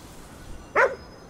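A single short, sharp bark from a dog in the Ghostwire video game, loud and close and standing alone against a quiet background.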